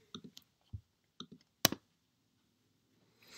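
A few sharp computer mouse clicks in a quiet room while opening a local Flask app in a web browser, spaced irregularly, with one louder click near the middle and a faint rise in background noise at the end.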